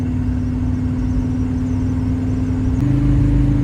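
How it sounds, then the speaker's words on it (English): A 1955 Chevy idles with a steady low exhaust drone and a constant hum. The engine note drops slightly near the end. "Exhaust on the car is much more bearable."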